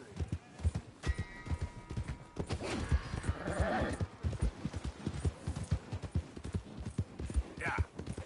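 Horse hooves clip-clop in a steady walking rhythm in the video game Red Dead Redemption 2, close and clear, with a brief whinny-like sound and faint game ambience.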